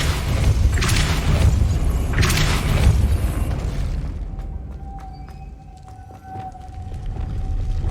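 Depulso force spell cast in a Harry Potter video game, a deep booming blast with rumbling low-end bursts that fades into quieter magical chimes, thin ringing tones and small clicks.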